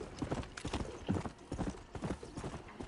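A horse's hooves in Red Dead Redemption clip-clop in a quick, steady galloping rhythm, close and fairly quiet, with no talking.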